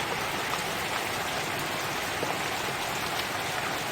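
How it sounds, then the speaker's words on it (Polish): Steady rain falling as a dense, even hiss of drops, continuous throughout with no voices. "Bardzo ładnie pada."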